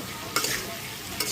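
Eggplant pieces sizzle in a frying pan as they are stirred, a steady hiss broken by two short scraping bursts of the spoon.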